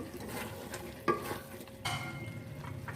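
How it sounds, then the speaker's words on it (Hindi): Spoon stirring fresh cream into cooked white chickpeas in a pot, a soft wet scraping with a gentle sizzle and a couple of sharper clinks against the pan, close up. "मलाई को हम मिक्स कर लेते हैं चनों में"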